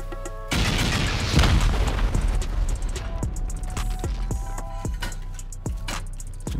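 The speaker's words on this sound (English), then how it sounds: "It looks like we're gonna have to blast out this high external wall" A loud blast opens up a high external wall in a base-building survival game, followed by a long rumbling roar and several sharp, thudding impacts over a steady background.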